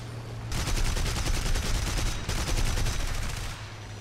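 Rapid gunfire in War Thunder rattles as one dense automatic burst, then a short gap, then a second long burst. It sounds loud and close, with no speech over it.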